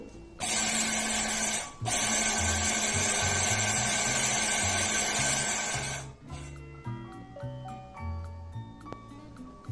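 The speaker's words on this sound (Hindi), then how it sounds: "इलसी का बीज ठंडा हो चुका है, अब इसे ग्राइंडर में डालकर इसका पाउडर तैयार कर लेना है।" An electric grinder grinding roasted flax seeds into powder runs loud and steady with a high whine for several seconds, cuts out briefly, starts again, then stops, leaving quieter rattling and clinking sounds.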